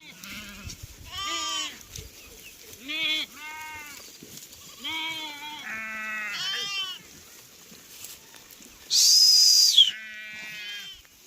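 Sheep bleat repeatedly in a village farm flock, several animals calling one after another at close range with overlapping, wavering cries and a brief burst of louder noise near the end.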